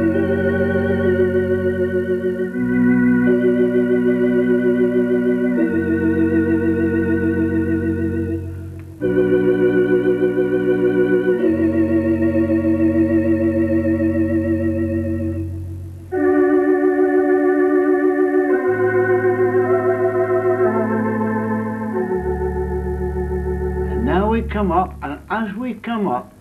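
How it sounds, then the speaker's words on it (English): Theatre organ plays lush open-harmony chords, with both hands sounding full, sweet sustained chords that shift every few seconds, loud and alone with a brief gap mid-passage. "I'll play those few bars again so that I'm playing in the left hand and the right hand and making it one big, beautiful, sweet chord"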